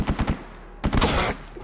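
Gunfire in the video game STALKER GAMMA: a quick cluster of three sharp shots, a pause, then a louder burst with a rattling tail, fairly close and alone with no talking.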